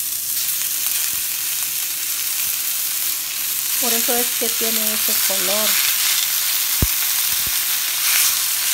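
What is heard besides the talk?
frying ground beef with onion in oil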